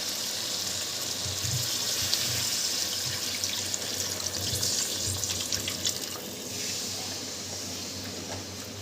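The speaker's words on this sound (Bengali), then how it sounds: "জল দিয়ে দিই দিয়ে দিই কষা হয়ে গেছে" Water poured into a pan of frying chicken curry with papaya, a steady broadband sizzle and watery rush running throughout at close range, with no talk.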